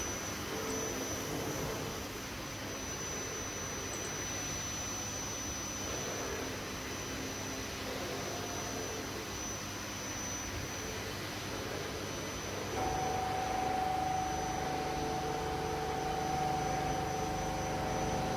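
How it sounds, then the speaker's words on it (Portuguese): Milling machine running with coolant sprayed on the tool, a steady broadband hiss and hum with a constant high tone, faint and continuous, a new pitched tone joining near the end. "Essa é a operação da máquina, com a refrigeração na ferramenta."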